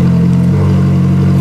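Ferrari 458 Speciale engine with its exhaust valves open, a loud, deep, steady engine drone held close up for a second or so.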